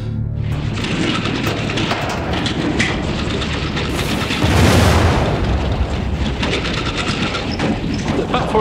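Coal mine explosion in South Wales, a continuous loud roaring rumble with crackling debris that swells into a heavier blast midway before settling back into a sustained churning roar.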